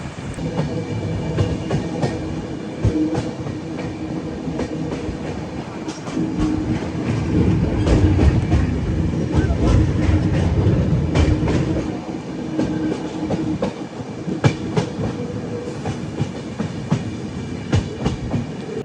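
A passenger train rolls along the Bangalore to Mangalore line in monsoon season, a steady wheel rumble with rhythmic clickety-clack beats and brief rattles, swelling to a louder, rougher stretch midway before settling back to an even run.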